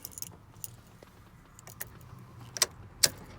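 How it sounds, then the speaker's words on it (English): Keys jangle and click at a Chevy Silverado ignition, several sharp metallic clinks spaced irregularly, close and quiet over a low cabin hum. "key has to be turned, but not turn the car on"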